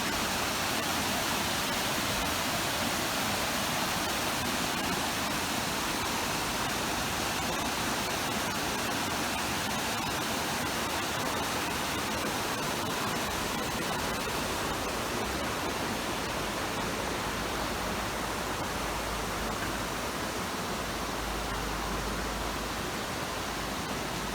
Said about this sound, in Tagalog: may tunog ng ilog